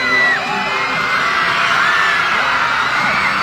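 Crowd at a night show in Tagkawayan, Quezon, yelling, whooping and cheering together in a loudest-shout contest, a dense, sustained roar with high children's shrieks rising above it throughout.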